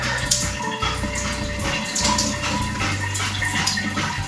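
Water pours and splashes onto conditioner-coated hair, a steady close gushing wash with faint dripping and no talking.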